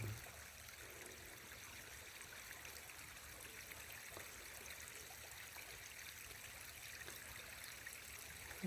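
Water runs from an irrigation channel into a rice paddy as a steady, faint trickling and burbling stream, continuous and even throughout with no voices.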